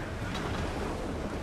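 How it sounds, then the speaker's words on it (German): A storm at sea in Assassin's Creed IV Black Flag, with a continuous broadband roar of strong wind and crashing waves around a sailing ship, loud and steady throughout, with no voices. "Ein Sturm, Captain! Sieht schlimm aus!"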